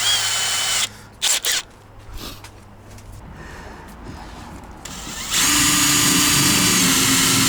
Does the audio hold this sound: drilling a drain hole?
yes